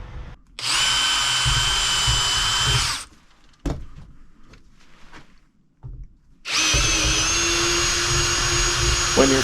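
A power drill bores 5/16-inch holes into 1-inch Schedule 40 PVC pipe, two loud sustained whining bursts separated by a quieter pause filled with handling knocks and rustles.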